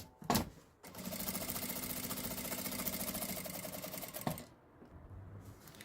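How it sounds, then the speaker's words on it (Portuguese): A sewing machine topstitching along a seam on a small fabric coin purse, a brief bump, then about three and a half seconds of steady, close mechanical whirring and needle chatter before stopping. "Uma costurinha de meio pé de máquina aqui nessa emenda da costura"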